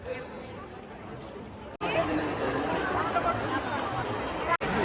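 A large crowd of devotees chatters at an outdoor religious gathering and fair during a Shiv Mahapuran katha in Mayali, Kunkuri, a dense steady babble of many voices that swells louder after a brief dropout and carries on throughout.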